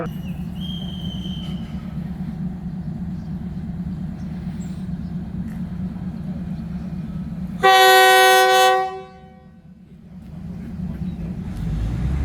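Thai local train no. 408, Chiang Mai to Nakhon Sawan, departs Nakhon Lampang station with a loud, sustained horn blast of about a second over steady rumbling engine and rail noise, which then fades and builds again.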